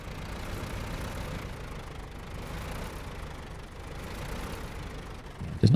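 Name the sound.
truck engine idling in video game SnowRunner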